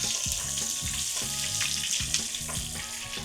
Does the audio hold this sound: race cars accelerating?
no